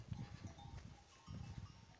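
Goats on a mountain trail bleat close by in short, repeated bursts, with a faint bell-like tinkle in the background.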